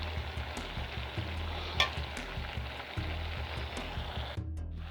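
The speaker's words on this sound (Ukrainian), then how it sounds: "І нехай тушиться ще з грибочками" Beans and mushrooms stew in a pan, sizzling and bubbling steadily, a close, continuous soft crackle with a brief clink of a utensil.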